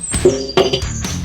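A drip pan is set down on a Weber kettle grill over browned coals, giving a few close, fairly loud metallic clinks and knocks spaced over about a second, with no talking.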